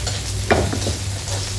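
Tomatoes being pressed and crushed in a pan of cooking sardines, a close sizzle with a brief scrape of the utensil.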